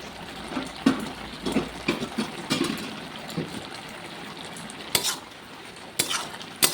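Vegetables frying and being stirred in a pan with a spatula, scraping strokes at an irregular rhythm over a soft sizzle, with a few sharp knocks against the pan.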